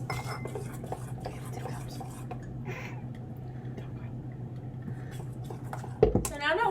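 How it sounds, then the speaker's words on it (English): Flour being stirred into a dough mixture in a bowl, a steady scraping and clinking of utensil against bowl throughout, with a sharper knock near the end. "we're going to add 1 cup of flour at a time to slowly incorporate it into the mixture"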